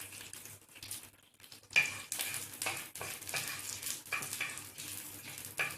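Whole cumin, bay leaf and black mustard seeds frying in hot oil, a faint crackling sizzle with soft stirring and a few clinks of a utensil against the pan.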